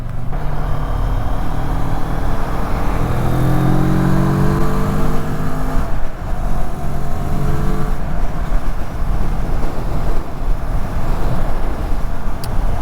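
Moto Morini Seiemmezzo motorcycle cruising at about 110 km/h in sixth gear near 5000 rpm, a loud, constant engine drone blended with heavy wind rush, steady throughout with no pauses.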